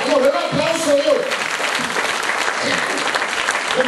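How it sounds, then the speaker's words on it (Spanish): A church congregation claps, full room applause with cheering voices rising through it, loud and sustained for several seconds. "¡No, den un aplauso a Dios!"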